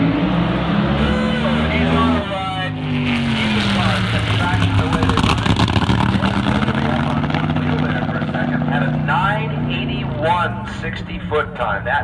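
Drag race cars launching side by side at Tucson Dragway, both losing traction: a loud, sustained engine roar that swells and wavers over about twelve seconds, with commentary running beneath it.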